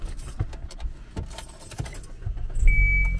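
A car engine starts up near the end, its low rumble swelling after a stretch of rustling and clinking handling noises close by, with no talking.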